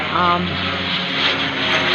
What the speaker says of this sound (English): I think there is a plane coming somewhere.